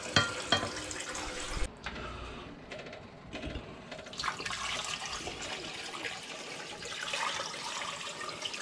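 Cold water runs steadily from a kitchen tap into a pot or sink, a continuous close hiss and splash with a brief dip in flow partway through.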